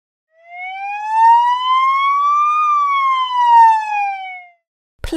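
A police siren wails in one long, loud sweep, rising and then falling, heard clearly on its own, then cut off abruptly.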